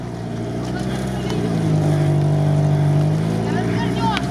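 An off-road vehicle's engine drones and rises as it pulls away across ruts, steady and fairly loud, with faint voices under it.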